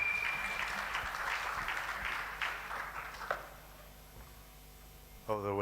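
Audience at an engineers' annual general meeting at Mlimani City applauds an engineer, a fading patter of clapping, fairly distant, dying away into quiet before a voice starts at the very end.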